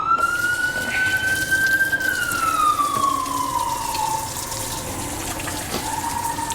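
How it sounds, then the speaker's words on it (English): A distant siren wails in a slow rising then falling tone over steady running water, with no talking. "Pretty sure y'all can hear the sirens."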